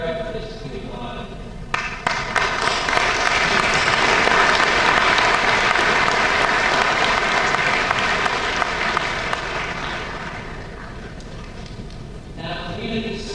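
Graduation audience at Fairfield, Iowa high school ceremony breaks into loud sustained applause, swelling quickly and tapering off after about ten seconds, with a voice resuming at the end.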